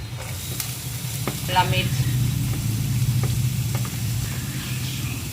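Ginger, green chilli and cabbage sizzle steadily in hot oil in a pan for a Nepali momo filling, with occasional stirring scrapes and a person talking over the frying.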